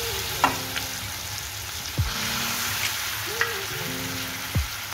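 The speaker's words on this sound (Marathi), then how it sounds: "याला आपण थोडं फ्राय करून घेऊया" Mushroom masala frying in a pan, steady loud sizzle with occasional clinks and scrapes of a spoon stirring, no talk.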